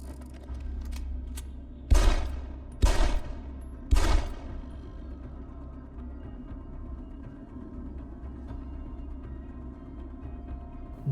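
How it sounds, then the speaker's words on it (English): Three sharp, loud bursts from a machine pistol in Deus Ex: Human Revolution, spaced about a second apart, each with a deep booming low end, over a humming game ambience. "This is machine gun pistol."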